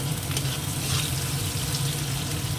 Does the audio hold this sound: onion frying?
yes